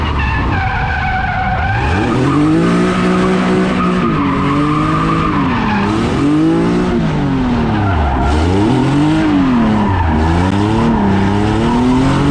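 A naturally aspirated Nissan 370Z drifts with its tyres skidding, a loud continuous squeal that wavers and bends in pitch as the engine revs rise and fall, close and sustained throughout.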